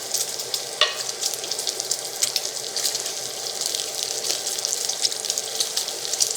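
Bacon frying on an AMZChef induction cooktop, a steady bright crackling sizzle with frequent small pops and spits, close and continuous with no talk.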